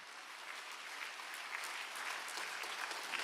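A church congregation at a Friday worship service in Gwangju claps together continuously, the dense, fairly soft applause rising a little toward the end, with no voices clearly standing out.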